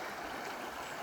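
Moose Creek flowing beside a wilderness backpacking campsite, a steady soft rushing and burbling of water, constant and fairly faint with no voices.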